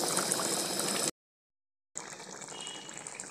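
Fish curry in mustard gravy bubbling in a pan, a steady, close, even hiss of simmering liquid that cuts out briefly to silence before resuming, with no talking.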